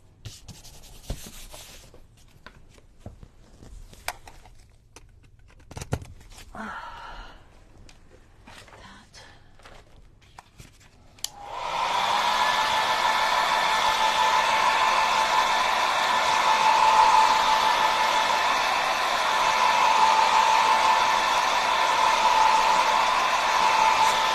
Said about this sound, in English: I might take my blow dryer to it just a little bit so I can trim that without it causing issues.